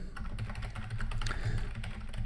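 Quiet typing on a computer keyboard, a steady patter of soft key clicks under a low background hum, with no talking.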